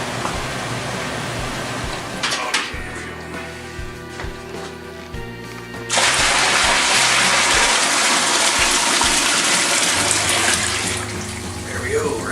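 Water pours and gushes for a home brewing batch, a steady broadband rush that grows louder and fuller about halfway through and runs continuously to the end, with a person talking over it.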